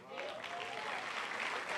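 A church congregation applauds, a dense steady wash of clapping that starts abruptly and holds at moderate level throughout, with voices mixed in.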